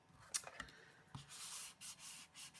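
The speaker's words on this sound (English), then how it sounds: "turn it over and give it a rub" A hand rubs the back of a folded paper card to press it flat and stick it down, giving a few soft dry swishes and brushes, close and quiet, with no talk.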